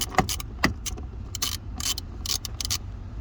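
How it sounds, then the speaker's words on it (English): A ratchet with a 10mm socket tightens the gas pedal assembly bolts on a 2016 Hyundai Sonata. Irregular bursts of crisp ratcheting clicks sound close in the footwell over a low background rumble, with no talking. "We'll use a ratchet to secure it down."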